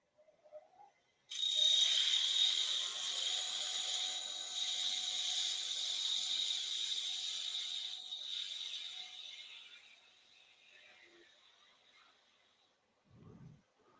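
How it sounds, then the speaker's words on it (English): A spindle gouge cuts a wooden spinning top on a lathe, a sudden sharp high-pitched whirring cut starting abruptly and fading gradually over about ten seconds, followed by a brief faint knock. "So I'm going to try my spindle gouge and see if I get a better result."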